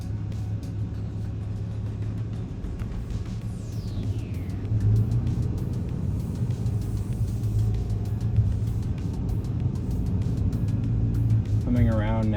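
A 2023 Ram 3500 Mega Cab Dually diesel pickup pulls away and drives on, its engine a steady low rumble with road noise throughout, and a brief voice near the end.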